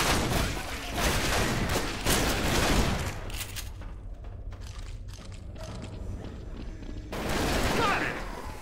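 Gunfire in Left 4 Dead 2 during a zombie-filled city campaign, with dense rattling shots at first, then quieter scattered cracks and clatter before another loud burst of shooting returns.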